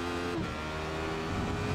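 A race car in the iRacing simulator drones along at steady engine revs, a continuous close motor whine with a slight pitch shift near the start and no talking.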